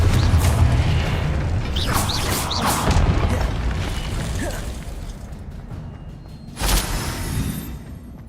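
A Confringo blasting spell in Hogwarts Legacy: a heavy, booming explosion with rumbling low-end debris that fades over several seconds, followed later by a second sharp burst and softer magical effects.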